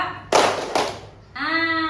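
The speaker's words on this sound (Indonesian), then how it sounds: "Ulangi lagi, tepuk 2" Two sharp bursts of classroom clapping in quick succession, loud and close, followed by a sustained tonal sound like a voice or whistle.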